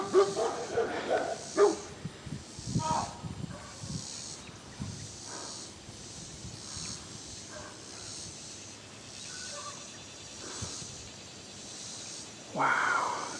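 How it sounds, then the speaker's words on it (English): Several dogs on a rural property with llamas and an alpaca, barking in scattered bursts at a moderate distance, loudest at the start and again near the end, with faint background noise between. "That stirred up the dogs."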